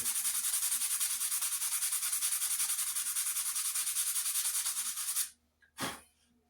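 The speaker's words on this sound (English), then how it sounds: "We'll hit it with another fine sandpaper. A finer grit sandpaper." Fine-grit sandpaper rubs rhythmically back and forth along a wooden racing axe handle, a close, steady scratching that stops abruptly, followed by a brief knock.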